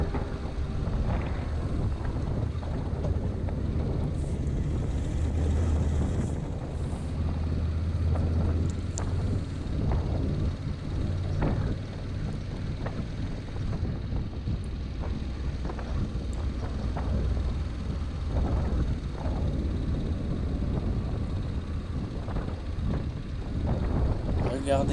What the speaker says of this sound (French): C'est vraiment une balade à moto les amis.